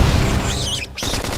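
A flame grenade bursts in the video game Xenoblade Chronicles X, a dense crackling blast layered over busy battle effects, followed by a short dip and renewed combat noise.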